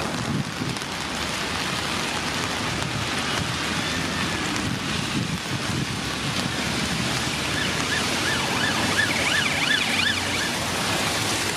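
A police car siren in Scotland wails in rising and falling sweeps, emerging late over steady rain-like background noise that fills the whole stretch.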